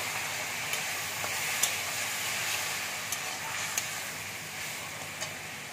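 Spice masala sizzling and frying in a pan for a Bengali mourala fish curry just after water is poured in, a steady broadband hiss with a few faint clicks and taps, close and alone.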